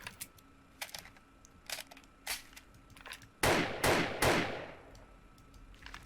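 Three sharp, loud gunshot bursts in quick succession from a rifle fitted with a burst-fire trigger mod in 7 Days to Die Alpha 18, preceded by scattered light clicking.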